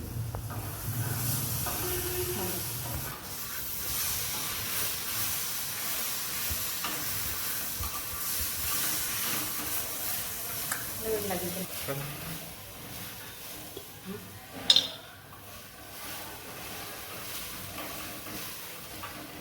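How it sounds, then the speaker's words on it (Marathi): Soft sizzling and crackling of pigeon peas roasting on a hot griddle, with a voice speaking over it and a sharp clink near the end. "तुरीचे दाणे आता आपण तव्यावर भाजून घेऊ थोडे"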